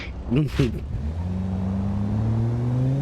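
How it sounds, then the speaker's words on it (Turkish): Car engine in BeamNG.drive revving up with a steadily rising whine, holding loud and close for several seconds after a brief burst of voices at the start. "Verdim gazı."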